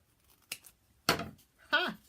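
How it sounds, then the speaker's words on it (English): Scissors snip through paper in a journal, three separate short crisp cuts spaced apart in a quiet room. "I'm going to have to cut some of this off to make it fit."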